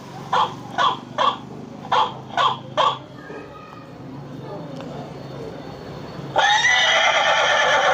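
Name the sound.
horse neighing, played by camera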